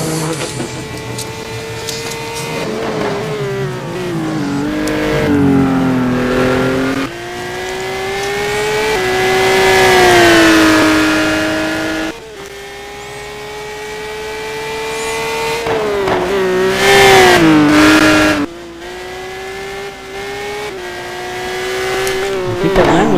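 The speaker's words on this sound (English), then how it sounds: "I think that Lambo should be pretty good around this track, actually." A Lamborghini GT1 race car screams through its gears on a hot lap at Interlagos, the loud engine note climbing and dropping with each shift and lift. It stays close and alone for over twenty seconds with no voices.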